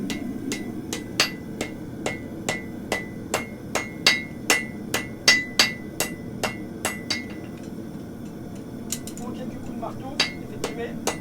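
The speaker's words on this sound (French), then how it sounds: "en quelques coups de marteau" Iron being straightened on an anvil with a forging hammer rings out as a rapid, regular series of sharp metallic strikes, loud and close, then pauses and resumes with a few scattered blows over a low workshop hum.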